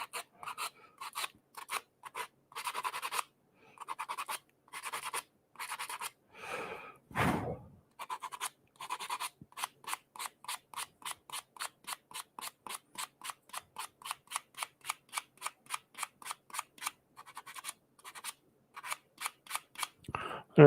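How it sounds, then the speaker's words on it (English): A woodturning piece is sanded on a sanding pad backer with quick, regular rasping strokes, a close, crisp series of rubbing bursts broken by one brief low thump. "A bit more sanding on that end will be good."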